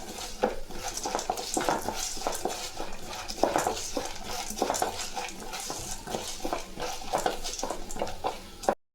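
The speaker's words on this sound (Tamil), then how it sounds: "வெந்தயம் இது நல்லா வறுத்து விட்டுக்கலாம்" Fenugreek and coriander seeds roast in a pan while a spoon stirs them, giving continuous scraping, rattling and light clinks against the metal for the whole stretch.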